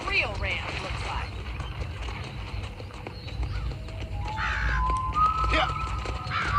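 Horse hooves clip-clop steadily at a trot in Red Dead Redemption Remastered on a Western ranch, a close rhythmic patter running under game music and occasional talk.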